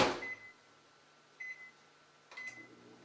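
A microwave oven emits three short electronic beeps, one at the start and two more spaced about a second apart, over a faint steady hum, with no voices.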